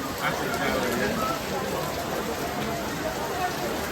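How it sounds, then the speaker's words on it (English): Steady rain patters densely on a surface, a constant close hiss of drops with no pauses. "Ah, listen to the rain."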